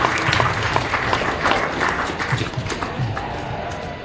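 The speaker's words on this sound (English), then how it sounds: "let's give them all a big round of applause" Crowd applause at a county fair sheep show, a busy patter of many hands clapping in a show ring, loud at first and easing slightly, with faint crowd noise mixed in.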